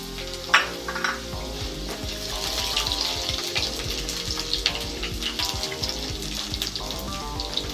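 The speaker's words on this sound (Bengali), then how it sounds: "গ্যাসটা লো টু মিডিয়ামে রেখে আমি ভাজছি এটা" Potatoes fry in a pan over a low-to-medium gas flame, giving a soft, continuous sizzle broken by occasional stirring scrapes and clinks, fairly close and quiet.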